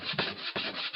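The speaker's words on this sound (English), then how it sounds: "I'm just sanding the edges to clean it up" Sandpaper rubbed back and forth along the edges of a wooden craft piece, a close, steady scratchy rasp in two or three strokes with brief pauses between them.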